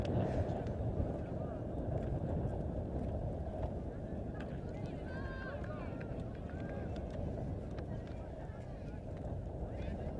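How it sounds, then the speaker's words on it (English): Strong gusty wind buffets the microphone in a dense, continuous roar, with faint voices in the background during a women's Italy versus Belgium sailing event. "I wouldn't be surprised if the wind is actually picking up right now. Very gusty."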